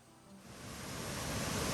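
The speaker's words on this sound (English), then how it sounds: "it stretches wide across the creek, and you get great Lewis Creek views at the base of this waterfall" Red Rock Falls, a wide waterfall spreading across Lewis Creek near Oakhurst, California, roars as a steady broadband rush of falling water that swells slightly and holds loud and close, with no voices.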